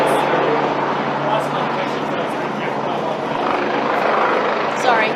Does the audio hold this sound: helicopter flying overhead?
yes